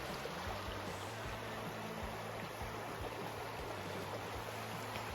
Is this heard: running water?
yes